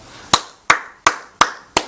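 Church congregation clapping in five sharp, evenly spaced claps, close and loud, with no talk over them.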